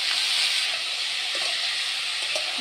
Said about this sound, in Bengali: এইবার আমি দিয়ে দেবো তরমুজ খোসাগুলো, ভালো করে নেড়ে চেড়ে এবারে কষতে থাকবে